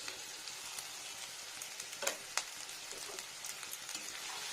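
Ginger, potato, green chilli and garlic sizzle steadily in a pan for an omelette-and-pointed-gourd curry, with a few louder scrapes of the spoon as they are stirred and no voices.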